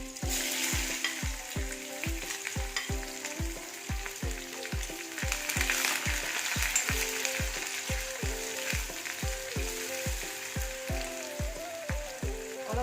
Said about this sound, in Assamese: অলপ ব্ৰাউন হোৱালৈকে ভাজি থাকিব লাগিব পিঁয়াজখিনি